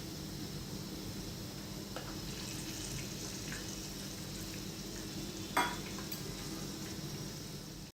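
Chicken frying in oil in a pan, a steady soft sizzle and crackle throughout with a few clinks of utensils, one sharper knock near the end, all close by with no talk.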